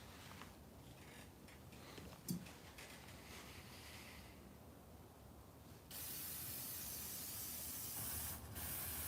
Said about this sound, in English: I spray them with WD-40. Every single one of them.